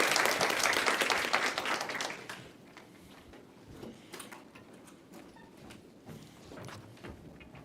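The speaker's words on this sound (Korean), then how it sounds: "이낙연 후보님을 큰 박수로 맞이해 주시기 바랍니다." Audience applause greeting a political candidate at a youth talk show held in a university social science college, a burst of clapping for about two seconds that quickly fades into scattered claps and room noise.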